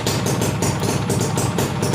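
A motorcycle engine idling close by, a steady rhythmic chugging with even pulses and no voices.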